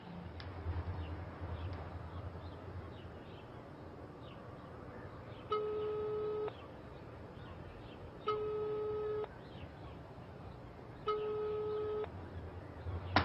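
A telephone tone sounds in three identical pulses roughly a second long and evenly spaced, a call that goes unanswered, heard faintly over quiet room background with no speech.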